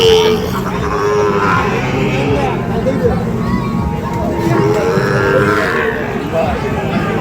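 Sahiwal cattle lowing at the Ambari livestock market, loud drawn-out moos rising and falling near by over a constant crowd babble and talk.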